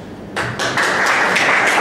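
Audience applause at a wine festival in Castelbuono: a burst of clapping breaks out suddenly and swells into sustained, dense, fairly loud applause from a crowd.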